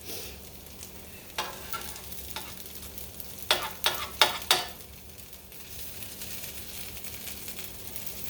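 Potato patties sizzling in a frying pan, a steady close frying hiss broken by a few louder scraping and stirring clacks from a utensil in the middle.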